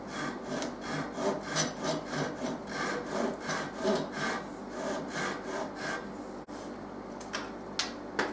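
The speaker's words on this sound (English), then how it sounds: "So with that tenon cut on the bandsaw," A bandsaw cuts a wooden mandolin neck tenon, a rhythmic rasping pass after pass through the wood that stops abruptly, followed by a few faint knocks.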